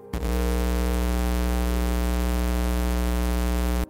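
Voyager Golden Record images encoded as audio waveforms and played back directly, giving a loud, steady, harsh buzzing drone with a dense stack of tones that holds unchanged for several seconds, with no voices.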